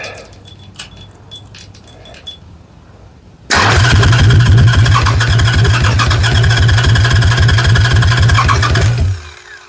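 A Harley Sportster hardtail chopper engine fires for the first time after a few seconds of faint clicking and rattling, then runs loud and close in a rapid, steady lumpy idle for about six seconds before cutting off abruptly.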